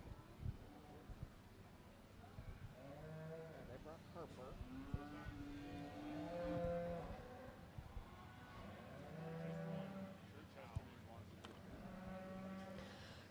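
Hereford cattle moo repeatedly at a fair cattle show, several long, low calls in turn, fairly close, with some faint background voices.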